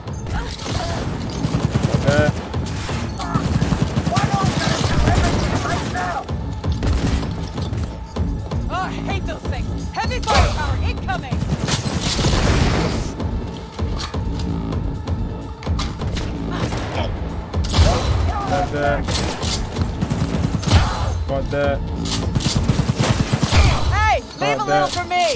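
Rapid gunfire in Cyberpunk 2077 crackles almost nonstop: dense, loud bursts and heavy thuds layered over a busy game soundscape for the whole stretch.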